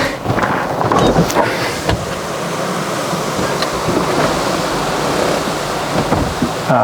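Strong wind buffets the microphone in continuous gusts and rumbles on a sunny day at a seaside garage, loud and close throughout, with no talking.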